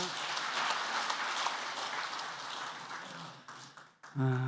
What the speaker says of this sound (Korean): 은혜로운 말씀을 전해주신 목사님께 감사 박수 드리겠습니다.